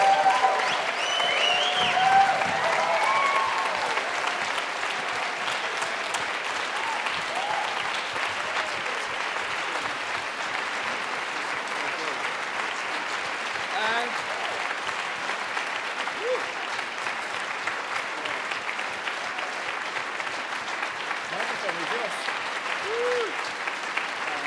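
Sustained audience applause for the band at a jazz competition on the Riga Jazz Stage, a dense, steady wash of many hands clapping that starts loudest and holds for over twenty seconds, with no talk over it.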